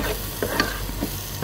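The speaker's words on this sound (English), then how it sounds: "we're going to work that butter into the mashed potato" Butter being worked into mashed potato in a hot pan, a continuous low sizzle with soft stirring scrapes and a few light knocks, steady and close with no talk.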